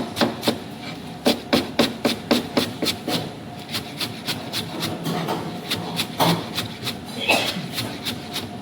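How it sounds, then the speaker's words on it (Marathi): Spring onion greens being chopped finely with a knife on a board, a rapid run of crisp, close taps that slows into a steadier rhythm, with light kitchen clatter in the background. "तर हे आपलं कांदा पात एकदम बारीक असं अशा प्रकारे कापून घ्यावं लागतं."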